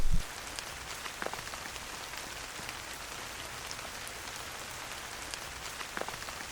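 A woodland downpour falls in a steady, even hiss of rain pattering on leaves and ground, with a few louder nearby drops standing out against the constant wash.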